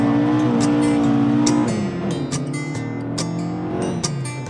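A Group 4 spec rally car, likely an Opel Manta with a Pinto engine, roars close up on a joyride in Ireland, revving through gear changes with loud, sustained engine tone and sharp shifts.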